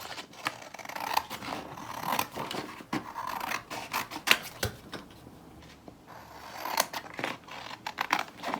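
Scissors cut around a paper pattern for a ballet bodice, a quiet sequence of close, crisp snips and paper rustles set in an irregular rhythm.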